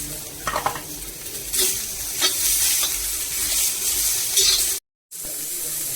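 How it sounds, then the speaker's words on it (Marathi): Tomato heats in a pan with a bright, continuous sizzle, punctuated by several clattering stirs against the metal, then a brief silent break before the frying carries on. "आता लास्टला टोमॅटो थोडासा गरम करायचा।"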